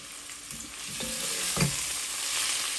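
Tomato puree for chicken jalfrezi hits a hot pan and sizzles steadily, with a few soft utensil clinks and a brief louder spatter partway through.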